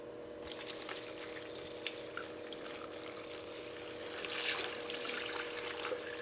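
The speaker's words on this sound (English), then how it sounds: "we're gonna add in 3 liters of water" Three liters of water poured into a pot of stemmed, de-seeded dried chiles, a faint steady trickle that swells near the end over a low electrical hum.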